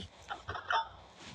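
Chicken clucking from a video game, a few short, close squawking bursts in quick succession with no talk over them.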